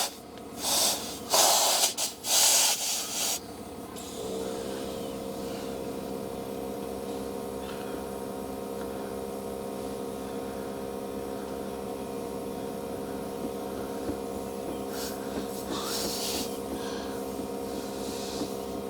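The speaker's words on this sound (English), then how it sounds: "This is my first time using this Viair compressor." A few seconds of close rustling and breathy noises come first. Then a Viair portable air compressor starts and runs with a steady, loud, buzzing motor hum that holds unchanged to the end.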